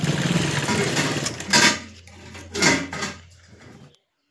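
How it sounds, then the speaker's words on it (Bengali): A sewing machine stitches elastic onto fabric in short, close bursts of rapid mechanical clatter, with quieter handling noise between the runs before everything stops. "আমি এলাস্টিকটাকে এইভাবে 2-4 বার সেলাই দেবো এর উপরে"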